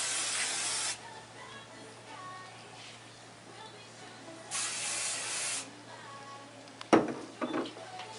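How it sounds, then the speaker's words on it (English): Two long bursts of aerosol hairspray hiss onto hair after round-brush blow-drying, each lasting a second or more, then a few short knocks and handling clatters near the end. "get your aerosol bottle of hairspray out. Spray your hair"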